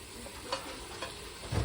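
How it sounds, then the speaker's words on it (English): Holiday stuffing frying in a pan over high heat, a soft steady sizzle with a few brief scraping stirs, close and quiet. "And so we'll continue to cook here until it's brown."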